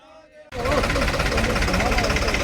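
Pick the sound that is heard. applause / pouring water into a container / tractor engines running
tractor engines running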